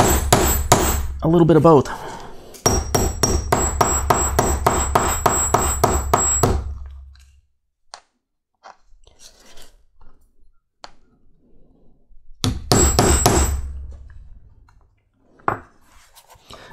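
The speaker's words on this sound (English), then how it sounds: "you can use either a ball peen hammer or the peening tool on this to peen out that rivet" Close, loud ball peen hammer blows peening out a rivet on thick leather for a civil war cartridge box reproduction, fired in rapid dense runs with a pause between them, and someone speaks briefly.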